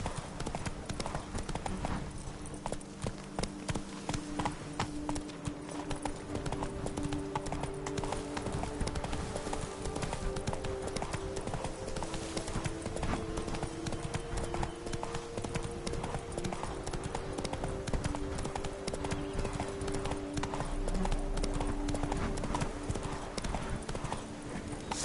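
Roach the horse galloping in a video game, a steady loud clip-clop of hooves running continuously over a background of game music and ambience.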